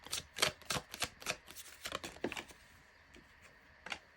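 A tarot deck shuffled by hand up close: a quick series of soft riffling and flicking bursts, fairly quiet, that thin out toward the end, with no speech.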